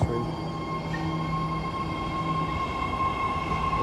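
A new five-car, three-door Red Line train bound for Richmond pulls away from the platform, with a steady close rumble of wheels and motors, a high whine and faint wheel squeal.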